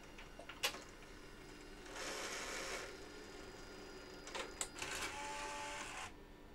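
A Sony DVCAM DSR60P video deck ejects a tape: quiet mechanical clicks followed by two bursts of whirring motor and gear noise, each about a second long, close and otherwise quiet.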